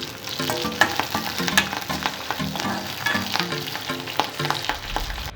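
Dried red chili and curry leaves sizzle in oil as a tempering, a steady frying crackle with rhythmic stirring scrapes of the spoon, close and moderately loud, with no talking.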